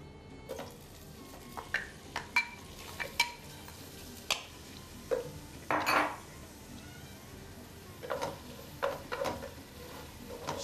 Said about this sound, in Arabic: شوي نخلط البصل